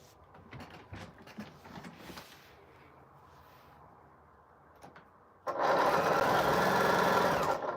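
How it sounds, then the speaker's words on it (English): Quiet handling and shuffling noises give way to a sewing machine stitching quilt pieces, its rapid, steady whir loud and close for the last couple of seconds. "And I'm going to sew."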